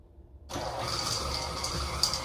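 An electric mixer starts abruptly after a short silence and keeps whirring loudly, with slight rattling and grinding as the beaters work through thick chocolate chip cookie dough.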